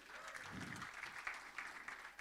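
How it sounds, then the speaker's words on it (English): Audience applause for a team member being introduced at a creative community event, a steady wash of clapping hands from a small crowd, close and continuous throughout without any talking. "Give him a round of applause."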